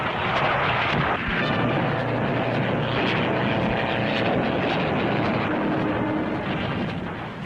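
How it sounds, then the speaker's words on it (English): Fighter aircraft from 1943 taking off down an improvised metal runway, a loud, continuous engine roar with broadband rumble and rattling that stays steady and close throughout. "Bouncing down the improvised metal runway, they head straight for the enemy target"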